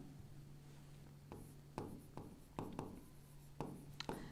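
Chalk or a pen taps and scrapes on a board during a Sanskrit lesson, a handful of crisp irregular strokes close by, over quiet room hum and without speech.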